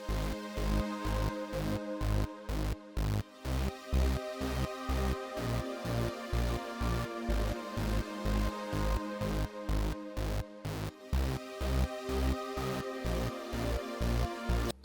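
Synth pad chords in an FL Studio beat sustain alongside a steady, pumping kick-driven pattern, the chordal layer holding down the harmony under rhythmic drums throughout, loud and without voices.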